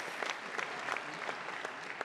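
An audience at a French right-wing political rally applauds steadily, a dense, even wash of many hands clapping for about two seconds with no voices on top.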